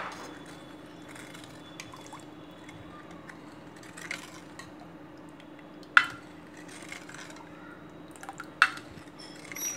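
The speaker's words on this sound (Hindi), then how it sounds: "और इस तरीके से आप मिक्स कर लें।" A spoon stirs wood apple juice with roasted cumin powder, giving soft liquid swishing with a few faint clinks against the glass, quiet and close over a low background hum.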